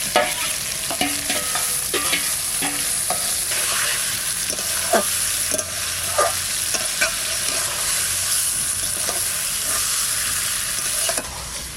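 Masala being stirred and fried in a pan for a Deshi Katla fish belly curry: a loud, continuous sizzle with a bright hiss, broken by repeated scrapes and taps of a spatula against the pan, close and steady, with no talking.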